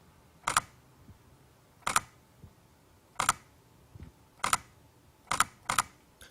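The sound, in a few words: Canon EOS R camera shutter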